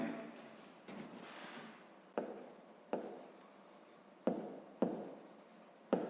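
A pen scratches out a math equation on paper in quick strokes, several bursts separated by short pauses, close and clear with no talking.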